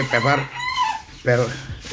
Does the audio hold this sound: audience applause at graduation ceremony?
no